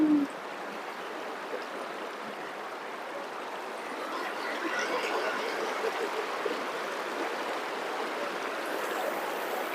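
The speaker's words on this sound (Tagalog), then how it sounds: "Malakas ng agos." Strong current of the clear Maples River in Aguilar, Pangasinan, rushing as a steady, close broadband wash of flowing water that builds slightly midway and holds constant throughout.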